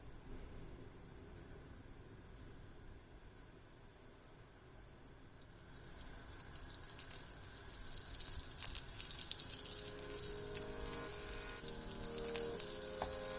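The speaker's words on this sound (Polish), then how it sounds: "Masło z olejem już zaczyna się pienić." A spoonful of butter and a spoonful of oil sizzling in a tall frying pan, a soft steady hiss that grows louder and brighter as the fat foams, with faint crackles near the end.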